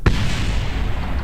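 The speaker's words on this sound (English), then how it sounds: "Just hear an explosion." A rocket booster explodes in Kerbal Space Program: one sharp, loud boom, then a dense rumbling roar that carries on without a break.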